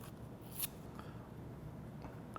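Scissors make a few brief, quiet snips through paper for a collage against soft background hiss.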